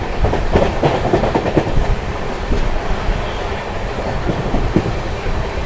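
The Magadh Express running through dense fog, a loud, close rolling rumble with rhythmic clickety-clack of wheels over rail joints continuing steadily throughout.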